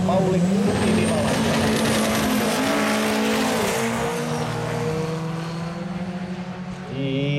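A Ford Escort and a BMW 2002 launch side by side at the start of a race at Alastaro, engines roaring loudly and rising in pitch as they pull away, with a commentator talking over the noise.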